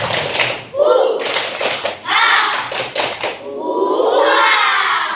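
Children in a classroom clap a counted 'tepuk 1, 2, 3' pattern: sharp groups of claps with short gaps, mixed with young voices talking and calling out.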